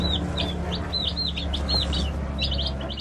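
Day-old hatchery chicks in a box, a dense chorus of high, rapid peeping chirps close by over a steady low background hum.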